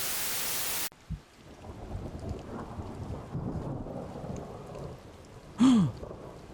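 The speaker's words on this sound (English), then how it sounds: "Thunder." Thunder rumbles and rain pours in the video game Crimson Spires, with a loud crack at the start, steady rainfall throughout, and a brief sharp burst near the end.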